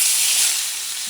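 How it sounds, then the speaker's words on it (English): Steady hissing sizzle of chuck eye steak searing in hot oil, a bright crackling wash close by that eases slightly toward the end, with no talking. "Once the oil shimmers, let that steak down."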